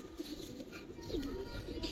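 Domestic pigeons cooing at close range, a few soft, low coos in a quiet setting with faint background noise.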